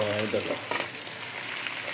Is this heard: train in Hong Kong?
no